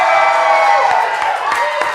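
Live crowd at a music show, cheering and whooping steadily at a loud, even level with a few sharp shouts rising out of the din.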